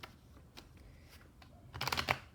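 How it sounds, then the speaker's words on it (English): A deck of cards riffled in a quick shuffle during a tarot-style pick-a-card reading: scattered soft taps, then a brisk, close burst of fluttering card riffles near the end. "After this quick shuffle"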